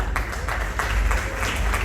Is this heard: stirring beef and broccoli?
no